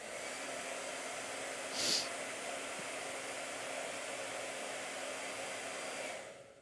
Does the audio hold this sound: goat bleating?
no